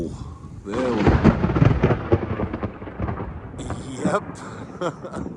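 Thunder in a Central Florida summer thunderstorm, a loud close crack rolling into a long rumble, with a brief spoken word and chiming in the background.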